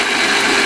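A loud, close, high-pitched whir of a kitchen mixer grinder spinning at full speed, pureeing baby food, steady and unbroken for a brief moment.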